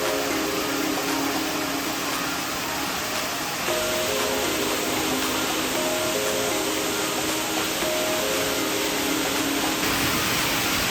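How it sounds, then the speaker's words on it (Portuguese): A waterfall in a park in Gramado, Brazil rushes with a steady, broadband roar that fills the whole span evenly and loudly, with no voices over it. "esse barulho da cachoeira aqui"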